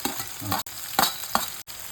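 Onions and curry leaves fry in a pan with a close, crackling sizzle, cut by a few sharp spoon scrapes and stirring strokes over a short span.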